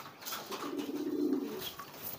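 A male racing pigeon, a homer recovering from Newcastle disease, coos in courtship. It is a steady, low, rolling coo lasting about a second, close by and moderately loud, with faint background noise and no talk.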